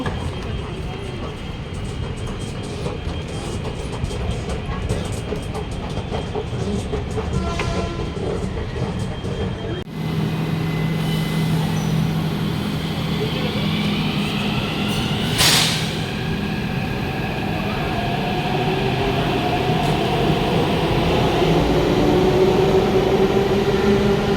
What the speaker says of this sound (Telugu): రైల్వే స్టేషన్కి అయితే వచ్చేసాము